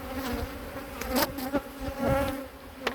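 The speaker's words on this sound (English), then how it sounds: "A bee's just trying to sting the phone." Honeybees buzz steadily around an Omlet Beehaus beehive, a close, continuous droning hum with a few louder passes as single bees fly near, no voices over it.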